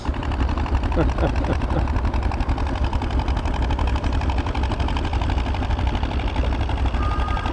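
A John Deere tractor engine runs steadily while pulling a 3-furrow plow at an outdoor plow day, a continuous close, throbbing putter with people talking over it.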